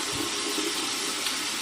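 A sink tap runs steadily while hands are washed, a close, continuous hiss of flowing water with no voices.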